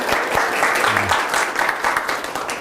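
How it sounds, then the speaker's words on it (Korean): A church congregation in a new sanctuary breaks into sustained applause, dense and fairly loud clapping from many people that holds evenly throughout. "하나님께 영광의 박수 올려드리겠습니다"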